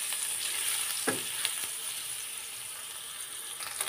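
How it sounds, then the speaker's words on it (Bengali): Eggs frying with turmeric in a pan give off a soft, continuous sizzle, broken by a few scraping stirring strokes, close up and fairly quiet, with nobody speaking. "হলুদটা দিয়ে একটু নেড়ে চেড়ে, ডিম কিন্তু বেশি ভাজতে হবে না, একটু নেড়ে চেড়ে তারপর নামিয়ে নেব।"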